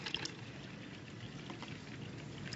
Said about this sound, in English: you take water. We're going to make about 10 cups, and you pour it in the reservoir.